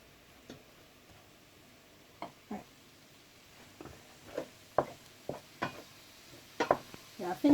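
Minced beef browns in a frying pan with a soft, low sizzle beneath a series of scraping taps and knocks from stirring and breaking up the meat, the stirring growing busier toward the end.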